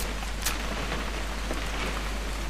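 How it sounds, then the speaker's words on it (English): Steady rain falls in a continuous, even hiss of drops with no pauses, a constant wash of sound with no voices over it. "It's gonna rain the whole weekend, isn't it?"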